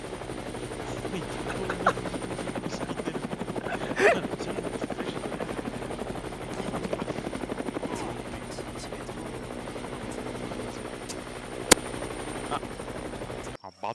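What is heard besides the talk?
combat helicopter in a video game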